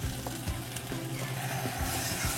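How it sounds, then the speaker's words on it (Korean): Leftover ground meat from meatballs sizzling as it is stir-fried hard in a pan to cook off moisture, a steady close crackle with light scraping stirs throughout and no talking. "수분 좀 날아가게 바짝 볶아줘야 맛있어요"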